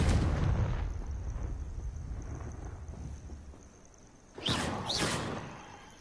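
Confringo blasting spell going off in Hogwarts Legacy, a deep rumbling boom at the start, a low roll fading away, then a second sharp burst of blasts near the end, loud and close with no talk.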